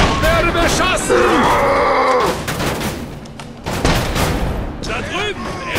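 Gunfire in the video game The Saboteur: rapid overlapping shots and bursts amid chaotic combat noise, with grunts and a voice shouting in German over the loud, dense firefight.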